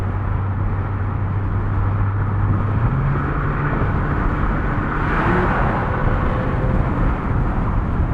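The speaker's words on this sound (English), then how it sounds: "First highway drive here in the Boxster." A Porsche Boxster cruising on a highway, heard from inside as a steady, loud engine drone with road and wind rumble; the engine pitch steps up partway through, as with a gear change. No one speaks.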